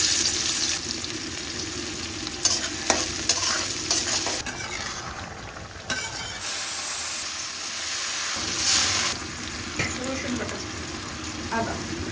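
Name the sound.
fish frying in a pan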